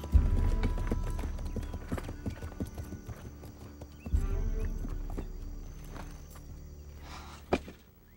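Horses walk outdoors, hooves clip-clopping in a steady, uneven rhythm at moderate distance, with a soft whinny near the end.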